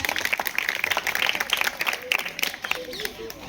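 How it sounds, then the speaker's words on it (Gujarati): A crowd at a primary school quiz competition claps for a team, a dense burst of applause of moderate loudness that thins toward the end, with a few voices mixed in. "એમના માટે તાળીઓ થઈ જાય."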